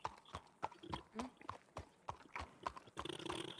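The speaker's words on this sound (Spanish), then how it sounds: "Yo me he pillado un caballo de tiro." Hooves of a draft horse in a video game clop in a steady walking rhythm, crisp, close and distinct, with a busier patch of sound near the end.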